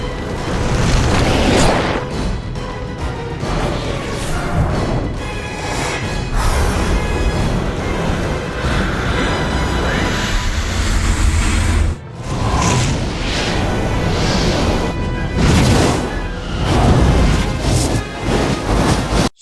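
Movie explosions tear through a sewer in Superman Returns, a long, dense stretch of loud rumbling booms and crashing blasts layered with a score, broken by one brief drop near the middle.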